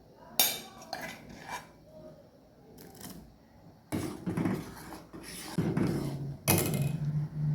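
Soaked sago being stirred into boiling milk in a pot, with bursts of metal spoon scraping and clattering against the pot interspersed with quieter bubbling.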